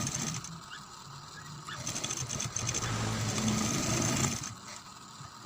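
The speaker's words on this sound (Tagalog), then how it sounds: "Isang tahian lang po siya pagdugtong ng paglagay ng lace saka yung pag top stitch po sa babaw ng ating mask." A sewing machine runs a continuous stitch along a fabric face mask, attaching lace and top-stitching, a fairly quiet steady mechanical whir with faint room noise and no speech.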